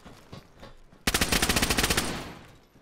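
A rapid automatic burst from a gun in DayZ, about a dozen quick loud close shots in one second, with quieter sounds before it and a fading tail after.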